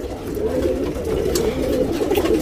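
Pigeons cooing steadily in a loft of high-quality tournament racing pigeons, a continuous low murmuring coo from several birds close by with no speech.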